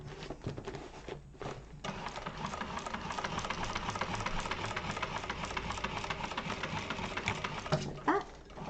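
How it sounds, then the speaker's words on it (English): A sewing machine runs steadily, top stitching through the bottom seam of a lined garment with a drop-in lining. It is a continuous close mechanical whir for most of the stretch, with brief pauses near the start and end. "So we're just top stitching through that bottom seam here"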